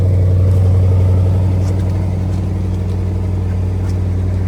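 A deep, steady exhaust rumble from a 2025 Porsche Cayenne Turbo E-Hybrid coupe with titanium exhaust, starting and running close by, a continuous low drone with no talking.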